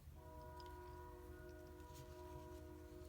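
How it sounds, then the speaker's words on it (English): A train passes nearby, its horn sounding as a steady chord of sustained tones over a low rumble, continuous and moderately loud throughout, heard indoors. "Oh goodness, I apologize for the train"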